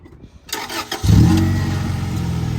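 A car engine turns over and catches at about one second, then runs loud and close with a rough, steady roar after a short burst of clatter beforehand.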